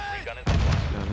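A single loud video game gunshot booms close by in a first-person shooter match, a sudden heavy blast that cuts in after faint game voices and rings out to the end.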